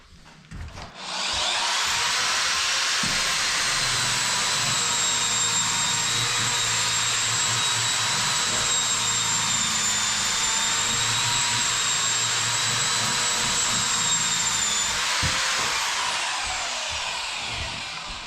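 A Harbor Freight Bauer drywall sander runs with no shop vac attached, giving a steady, loud, high whirring hum with a faint whine that holds for about fifteen seconds and then winds down.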